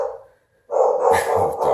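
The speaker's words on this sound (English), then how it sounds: "Dogs are going crazy." Dogs bark in short bursts, a brief yelp, a pause, then a louder cluster of close barks with some yipping.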